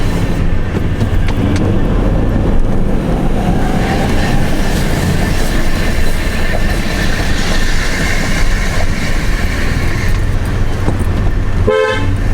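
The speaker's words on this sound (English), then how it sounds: "Horn works." A truck horn sounds in a long, loud, steady blast over a low idling rumble, with no talking; the truck is an old one needing brakes and tires, its cab home to spiders and wasps.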